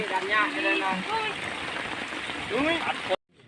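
Heavy rain from a storm in a forest makes a steady, loud broadband hiss, with voices talking over it until the sound cuts off abruptly near the end.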